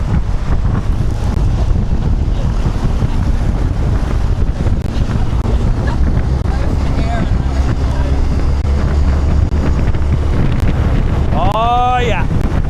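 Rafting through whitewater rapids in Devil's Gorge on the Thompson River, British Columbia: a constant loud roar of churning waves and wind buffeting the microphone, with a brief shout near the end.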